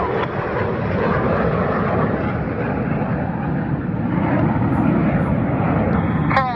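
Red Arrows jet aircraft performing a rollback manoeuvre at the Duxford Battle of Britain airshow, a loud continuous jet roar that stays steady throughout, with a voice commentating over it.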